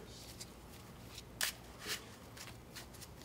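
A deck of playing cards being shuffled at a game table during a trading card match, several faint riffling bursts and soft card flicks over a quiet room background.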